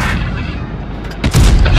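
An FV4005 tank gun in World of Tanks Blitz fires once, a loud heavy boom that follows a rumbling lead-in and rolls out into a low sustained echo.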